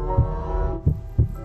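Heartbeat sound effect: three deep, muffled thumps, evenly paced over a low steady hum and sustained musical tones.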